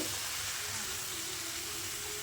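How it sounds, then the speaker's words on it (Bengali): Pumpkin and potato frying in a pan with salt and turmeric, a steady close hiss and sizzle running throughout with no talk. "দেখো অলরেডি আমি এই যে ভাজছি"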